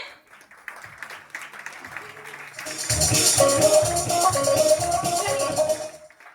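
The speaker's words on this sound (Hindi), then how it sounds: "जबरदस्त तालियां भैया के लिए होनी चाहिए।" Audience applause at a company meeting swells after about three seconds into loud, dense clapping with a rhythmic beat, preceded by softer mixed sound and music-like tones, then fading near the end.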